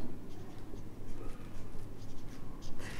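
A pen scratches steadily across paper during an accounting lesson, producing soft, continuous close-up strokes with brief pauses, fairly faint and heard alone.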